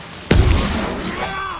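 A sudden loud boom from an explosion in the samurai action game Ghost of Tsushima, striking once with a heavy low-end burst and a rumbling tail that fades slowly over the next second.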